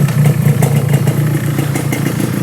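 A Yamaha RX-King 135 motorcycle engine runs loud and close with a steady two-stroke rattling drone and slight rises in pitch, with no voices over it.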